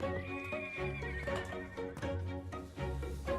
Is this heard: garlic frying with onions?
no